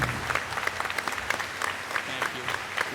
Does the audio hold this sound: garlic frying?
no